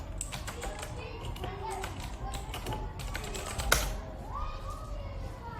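Computer keyboard keys tapped in quick, irregular clicks while typing a search query, close and fairly clear over a steady room background with faint voices.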